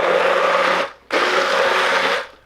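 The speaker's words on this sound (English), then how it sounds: "with the blender, you're basically just pulverizing the oats" Blender pulverizing oats in a kitchen runs loud and close in two steady bursts of whirring roar, separated by a short pause.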